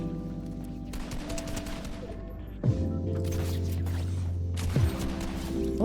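Rapid automatic gunfire from a Fortnite match rattles in several bursts, with a heavier impact about halfway through, over steady game background noise.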